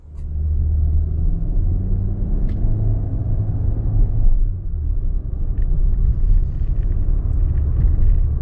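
A 2025 Volkswagen Taos S subcompact SUV driving on the road, heard from inside as a steady low engine and tyre rumble with mild swells under acceleration.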